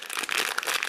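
A plastic bag from an advent calendar crinkles and crackles loudly up close as it is torn open, a busy run of sharp rustles with no talking.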